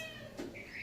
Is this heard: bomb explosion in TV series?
no